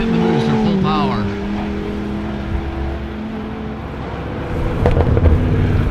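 Vengeance Racing's Dodge Viper drag car accelerates hard down the strip on its booster during a 216 mph run: a steady, distant engine roar that swells louder near the end, with a commentator talking over it.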